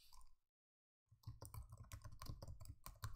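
Rapid keystrokes on a computer keyboard as a command is entered in a PyCharm terminal: a brief tap, a short pause, then a quick, even run of soft close clicks.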